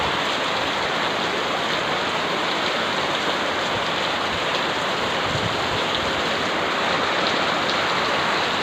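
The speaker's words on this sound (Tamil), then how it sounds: "வேகமாகவே மழை பெய்யுதுங்க" A downpour of heavy rain drums continuously on nearby surfaces, water falling from a roof, a thick, even wash of noise lasting throughout.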